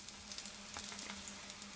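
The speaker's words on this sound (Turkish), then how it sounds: "Artan hamur parçalarını da bu şekilde birer kaşık tavaya döktüm" Spoonfuls of leftover batter fry in a pan of oil, a soft steady sizzle with faint crackling pops, quiet and close, with no talking.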